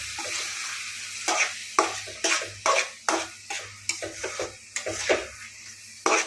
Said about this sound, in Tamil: இப்போ நல்லா கிளறி விடலாங்க.